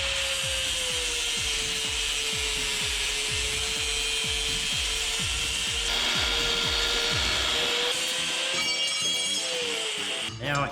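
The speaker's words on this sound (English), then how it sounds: "So I'm gonna cut the sprocket." A motor-driven cutting tool grinds through a metal bicycle sprocket with a loud, steady whine and fast repeating ratcheting pulses, ending with a scrape as the cut finishes.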